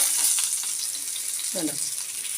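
Fish frying in a pan gives a moderate, continuous sizzle, with a brief clatter as the pieces are turned over partway through.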